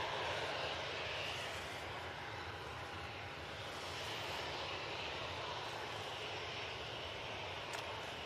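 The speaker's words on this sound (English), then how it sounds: "Ryanair. 737-800. Now lined up, ready to go." A Ryanair Boeing 737-800 sits lined up on the runway ahead of takeoff, its jet engines giving a steady, fairly faint roar with a thin whine running through it, unbroken throughout.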